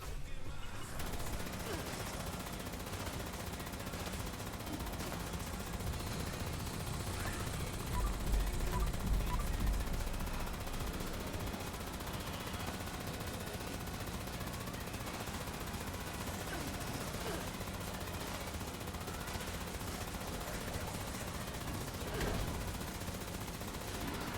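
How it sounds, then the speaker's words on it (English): A quad focus Gatling laser fires in a video game, a sustained rapid burst of repeated shots in a dense, continuous stream with a brief heavier surge midway, running for the whole stretch without spoken words. "I got the quad focus Gatling laser"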